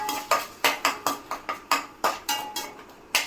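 Ginger-garlic paste sautéed in a pan, a regular series of sharp metallic spatula knocks and scrapes against the pan, about three per second, close and clear, with no voices.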